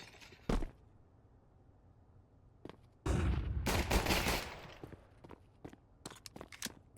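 Gunfire in a Counter-Strike esports match: a sharp single shot, then a dense burst of rapid fire, with scattered footsteps and small clicks in between and another shot at the end.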